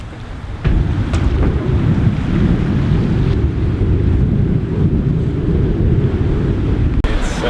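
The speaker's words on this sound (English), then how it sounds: "So we got 24, 25 knots of wind now from the beam." Strong beam wind of about 24 to 25 knots roars across the microphone on a sailing boat in Scotland, a loud, steady rumbling buffet with a few brief knocks.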